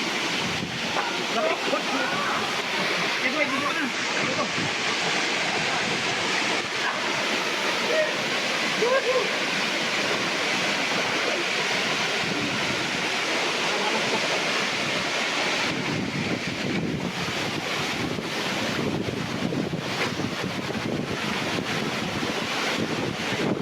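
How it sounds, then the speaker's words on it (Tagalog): Kinapuin Falls in Calawis, Antipolo rushes with a steady, loud broadband roar of falling water for the whole stretch, with wind buffeting the microphone and a voice briefly calling out. "So ito ngayon ng Kinupuin Falls."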